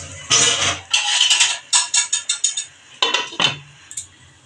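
A metal lid clatters onto a curry pot of Bengali katla fish curry, a series of sharp close clinks and rattles as it settles, followed by a few lighter taps.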